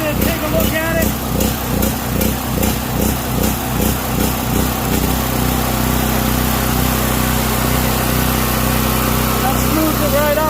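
A Powermate 3000 generator engine runs with a rhythmic pulsating surge, chugging unevenly for the first few seconds and then settling into a steadier, continuous drone, loud and close throughout.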